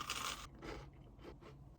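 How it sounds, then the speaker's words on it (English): Faint crunching of toast being chewed close up, several soft crunchy bites in a row with no talking. "Y'all hear how crunchy my toast is?"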